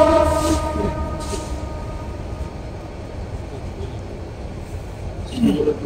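A passing train gives a steady, loud rumble of wheels and carriages from start to finish, swelling slightly near the end, with faint voices in the background.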